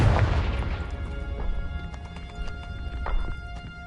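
A Confringo blasting spell goes off in Hogwarts Legacy, one sharp booming blast at the start that decays into scattered clattering debris and hoof-like knocks, moderately loud over quiet game ambience.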